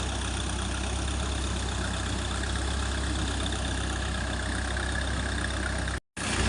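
A diesel engine running a water pump drones steadily and close by, a continuous low mechanical hum that cuts out abruptly for a moment near the end.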